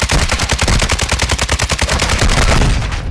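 Rapid automatic gunfire in Warzone 2, a long loud burst of evenly spaced shots at a fast rhythm, close and without speech.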